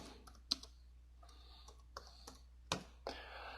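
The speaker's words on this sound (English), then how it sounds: "I'll start typing here, and let's just type Moby Dick." Sparse, irregular keyboard clicks, a few sharper keystrokes among softer taps, close and quiet with no talking.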